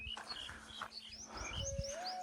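Birds chirp and tweet from within a shady acacia tree beside a road near an ashram, repeated bright calls at close to moderate distance over a steady outdoor hum.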